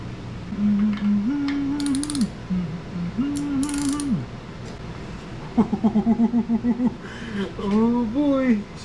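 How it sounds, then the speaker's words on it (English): A ratchet turns the cams of a Honda K24 engine by hand, producing close, crisp clicking bursts and a rapid run of ratcheting clacks, interspersed with whining tonal sweeps and brief metallic chinks, under a quiet background. "we're going to be rotating the cams until the internal holes are aligned on the pulse plate"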